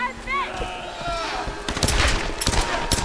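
Gunfire in the Tomb Raider video game comes as quieter sounds at first, then a run of sharp, rapid shots packed into the second half.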